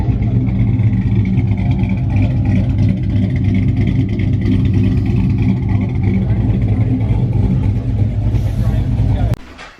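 A big-cam 5.3 V8 idles and revs loudly right after its first start, a deep throbbing rumble that holds steady for several seconds before cutting off abruptly near the end.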